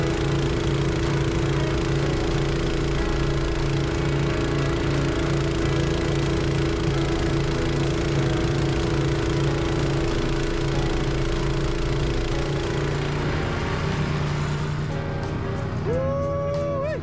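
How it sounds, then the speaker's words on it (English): Kubota tractor with snowblower running steadily while plowing through about 8 inches of snow at an airport, a constant loud engine drone with mechanical hum throughout, easing off near the end. "trying to plow through 8 inches of snow with the other hand and run the snowblower"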